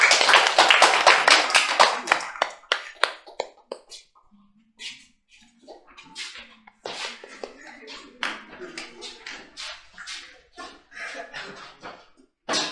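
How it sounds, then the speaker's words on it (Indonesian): A small classroom group claps briskly and loudly after a presentation, then the clapping thins into scattered, quieter claps with some murmuring. "kita beri tepuk tangan kepada teman yang sudah presentasi"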